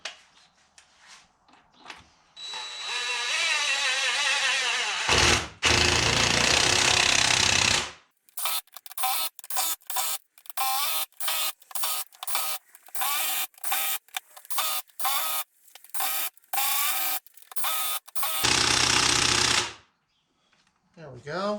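A power tool drives and tightens bolts on a GM transfer case, long loud whirring runs followed by a string of short sharp bursts with brief gaps, close up.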